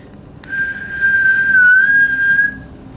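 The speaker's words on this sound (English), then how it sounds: "They loved Peter's whistling." A person whistles one clear, sustained note for about two seconds, close and alone, during a read-aloud of a children's book.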